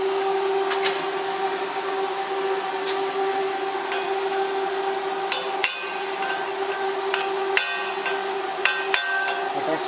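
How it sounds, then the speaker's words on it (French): Chisel chipping slag off a MAG butt weld on steel: sharp, scattered metallic taps, several close together, over a steady background hum, with no talking. "Un petit coup de burin pour enlever les gratons."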